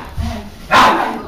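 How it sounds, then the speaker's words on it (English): A pet dog brought to a vet gives a single loud, close bark after a softer low whine, with a voice faintly in the background. "Can you control your dog, please?"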